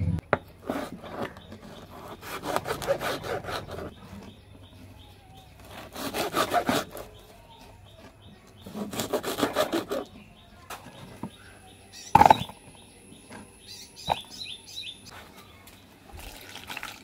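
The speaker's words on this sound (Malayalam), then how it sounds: "അപ്പം ഇതൊന്ന് കട്ട് ചെയ്തിട്ട് വെള്ളത്തിലിട്ട് വെക്കട്ടെ" Shark fish is cut by hand outdoors in a Kerala village. Several bursts of rhythmic, rasping strokes are separated by pauses, with one sharp knock, and faint birdsong sounds in the background.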